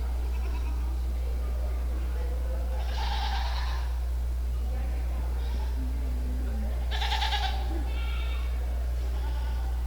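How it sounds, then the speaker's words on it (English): Goats bleat at a dairy goat show, with two clear bleats a few seconds apart over a steady low hum and quiet arena murmur. "he has Even the first, somebody else's goat, then he has Anne, Lily, and then Luna"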